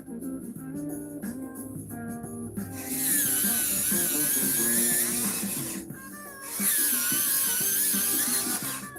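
A colored pencil in chestnut brown is ground in an electric sharpener, giving a loud, steady high-pitched whir in two bursts of a few seconds each, set against quiet background music.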